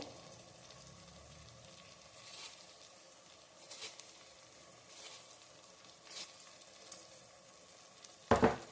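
Carrot rice with chilli powder and salt being stirred in a pan, a steady low sizzle with soft intermittent scrapes of the spoon and a sharper clatter near the end, no talking.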